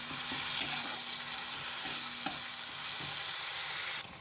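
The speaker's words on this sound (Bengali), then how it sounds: "অল্প একটু আদা রসুন দিয়ে দিয়েছি, দিয়ে আবার একটু কষতে শুরু করলাম।" Lentil fritter curry with ginger and garlic is stirred and sautéed in a pan, with a steady soft sizzle and a few scraping strokes of the spoon, until it cuts off abruptly near the end.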